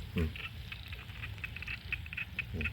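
Small frogs chirp and croak in quick repeated bursts after heavy rain in Sisaket, Thailand, fairly faint, over a soft background hiss of wet ambience.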